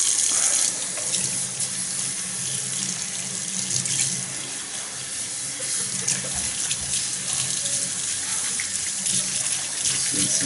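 Running tap water gushes steadily into a sink as masticating juicer parts from a Ventray 808 are rinsed, a continuous close hiss and splash lasting the whole stretch with small changes as parts move under the stream.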